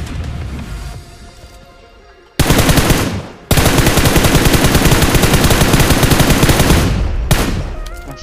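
Rapid automatic gunfire in a shooting video game, loud and dense, with a brief pause before a long sustained burst that runs nearly to the end, with quieter ambience before it.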